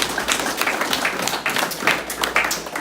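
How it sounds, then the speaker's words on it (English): A small group claps for an undefeated high school sports team being named team of the week. The applause is steady and fairly close, with no talk over it. "So let's give you guys a big round of applause."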